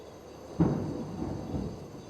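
Thunder from a passing storm breaks in with a sudden muffled crack and rolls on as a low, rumbling wash at moderate volume, heard indoors without talk.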